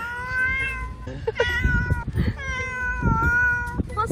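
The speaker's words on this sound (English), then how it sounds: "That cat's come back to greet us." A cat meows several times close by, with drawn-out, tonal, plaintive calls in a broken sequence and brief rustling between them, heard outdoors in Cyprus.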